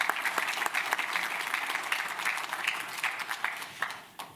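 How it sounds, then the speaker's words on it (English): A round of applause from the audience at a hospital resident and fellow graduation, crisp overlapping claps at moderate level that thin out and taper off toward the end. "a special round of applause to both of them"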